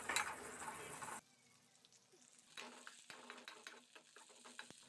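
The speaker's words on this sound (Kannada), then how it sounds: "ಮೊದಲಿಗೆ ಉದ್ದಕ್ಕೆ ಹೆಚ್ಚಿರುವ ಈರುಳ್ಳಿಯನ್ನು ನಾವು ಫ್ರೈ ಮಾಡ್ಕೊತಾ ಇದ್ದೀವಿ." Sliced onions fry in a pan, a loud sizzle in the opening second before dropping to a quieter crackle, with scattered scraping and clinking as they are stirred.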